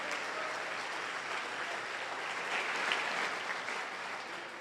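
A church congregation applauds during a Portuguese-language sermon, a dense, sustained roar of clapping that holds evenly for several seconds and fades slightly at the end.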